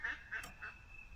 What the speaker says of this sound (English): My ducks are excited too.